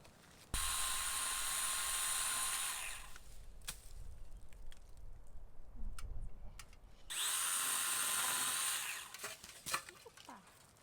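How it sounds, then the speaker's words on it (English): A small chainsaw whines loudly in two long bursts, cutting during storm cleanup on an off-grid farm in Portugal, with a quieter stretch of ticks and clicks between them. "This is when my new chainsaw tool comes in super handy."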